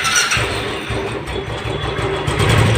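A Royal Enfield Classic 500 single-cylinder motorcycle engine runs close by at idle, a steady loud chugging rumble.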